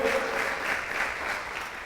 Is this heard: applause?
yes